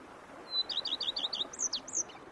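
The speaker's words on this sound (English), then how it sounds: "Bees buzzing, birds chirping." Birds chirp in The Witcher 3: Blood and Wine, a quick run of bright, repeated tweets followed by a few longer slurred whistles, clear and fairly close over a quiet background.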